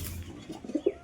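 A domestic pigeon gives a short, soft coo, two low throaty pulses close by in a quiet room, brief and faint.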